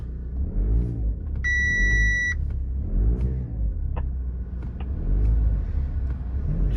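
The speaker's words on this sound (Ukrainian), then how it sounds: "Заводиться, бустер мій підсівший, але заводиться нормально." Diesel engine of a damaged 2015 Audi A4 2.0d idling steadily nearby with a low rumble, a short electronic beep chiming in early and faint clicks scattered over the drone.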